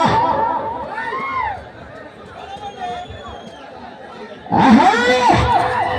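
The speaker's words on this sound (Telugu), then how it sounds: "కేకలు రావాల మరి విజయోత్సవం" Spectators at a bull race shout and cheer in a crowd, voices clustered at the start and swelling loudly again near the end, mixed with an announcer's talk.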